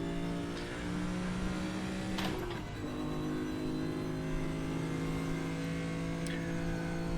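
A race car engine in the RaceRoom racing game holds a loud, steady drone with layered tones, shifting pitch briefly partway through before settling into a sustained whine. No one speaks.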